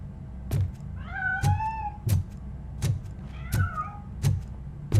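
A cat meows twice inside the RoboCop: Rogue City video game, drawn-out plaintive cries standing alone over a low steady game ambience with a few sharp thumps in between.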